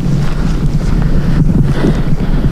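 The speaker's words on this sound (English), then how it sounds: "The wind's coming off the tundra." Wind blowing off the tundra rushes steadily across the microphone, a loud, low, continuous buffeting with slight gusts and no voices.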